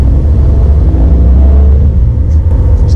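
Car accelerating hard with a loud, close, low engine rumble and road roar that stays heavy throughout the run.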